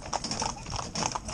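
Hooves of a mixed four-in-hand team of young, green ponies pulling a carriage beat out a quick, even clip-clop rhythm close by, with a faint voice underneath.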